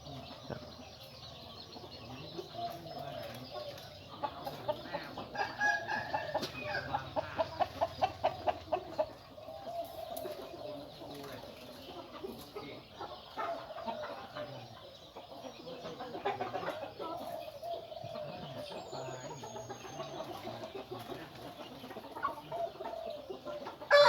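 A captive wild junglefowl in a cage crows and clucks at a moderate distance, with repeated rhythmic calls and bursts over a steady outdoor background, plus brief wing flapping.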